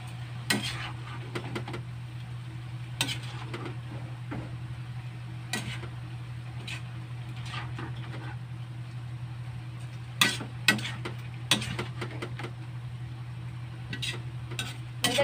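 Shrimp frying and being stirred in a pan, a soft sizzle under a steady low hum, punctuated by scattered sharp taps and scrapes of the utensil against the pan, close by with no talking.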